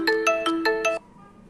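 A phone ringtone plays five quick, evenly spaced electronic tones in a bright melodic burst, loud and close, then cuts off into quiet.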